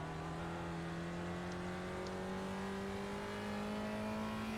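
A Spec Racer Ford's engine hums quietly and steadily in an iRacing simulation at Sebring, its pitch climbing slowly as the car accelerates out of a corner.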